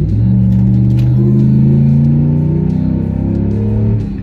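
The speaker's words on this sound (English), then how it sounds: "The Hemi makes power. Here's a little throttle for you guys." A Ram Laramie pickup's Hemi V8 revs up and holds a loud, close, deep rumbling drone with rising harmonics for several seconds before easing off at the end, with no talking.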